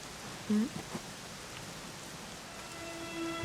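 Steady rain falls in Dragon Quest XI, a loud even hiss of drops filling the scene without pause, with a brief tonal game sound early on and a faint held tone near the end.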